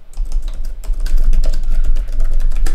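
Fingers typing on a computer keyboard, a rapid close stream of key clicks, steady and fairly loud, with no talking over it.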